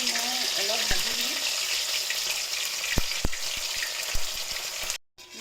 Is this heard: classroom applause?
no